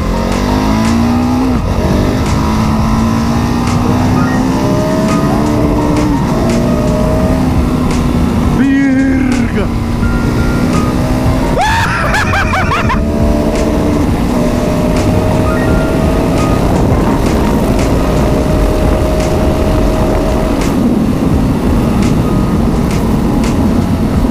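A Husqvarna 701 Supermoto engine revs and accelerates steadily in first gear, pitch rising and dropping with gear changes, loud and close throughout.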